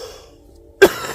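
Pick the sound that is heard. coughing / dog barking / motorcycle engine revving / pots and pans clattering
coughing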